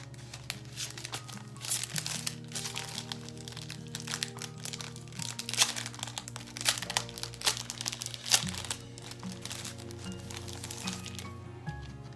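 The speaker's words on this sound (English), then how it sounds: "So I'm going to go ahead and cut out my heart." Scissors cut a heart shape out of paper, giving a steady run of close, crisp snips and crinkling rustles over soft background music.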